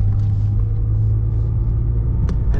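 A 1990 Peugeot 205 Junior with a 1-litre engine and four-speed gearbox, heard from inside while driving on the road: a steady, loud low rumble of engine and road noise throughout, with no talking.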